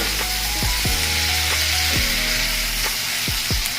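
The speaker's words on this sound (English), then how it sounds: "Let's stir it really good" Bhindi masala with tomatoes sizzles loudly in a pan, a dense continuous frying hiss with repeated scraping sweeps of a spatula stirring through it.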